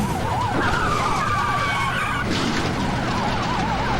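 Police cars ram a stolen car in a pursuit: wailing sirens sweep up and down over tire screech and engine noise, then a rough scraping impact, all loud and close.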